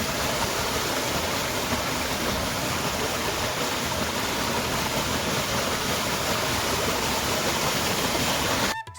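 Water plunges with strong force onto the wooden wheel of a village watermill in Uttarakhand, making a loud, steady, close rushing roar that continues unbroken and then cuts off abruptly at the end.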